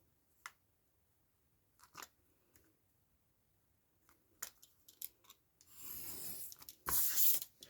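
Scissors snip through paper for a handmade Christmas journal: a few separate close cuts spaced seconds apart, then quicker snips and louder paper rustling toward the end, in an otherwise quiet room.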